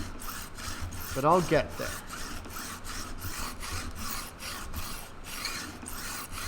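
A file rasping across guitar neck frets to bevel their ends, steady repeated strokes close up with a brief louder scrape, and someone speaking briefly over it.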